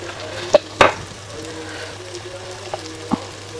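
Onions frying in a pan as spice powders are tipped in for biryani: a soft, steady sizzle with a couple of sharp clatters near the start and light stirring knocks, close by and alone.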